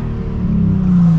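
A Nissan 350Z engine revving up close, a loud, low, steady drone that rises slightly in pitch over a brief moment, with no voices.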